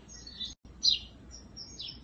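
A small bird gives high, thin chirps in several short bursts over a soft, steady background hum, faint and close, with no talking.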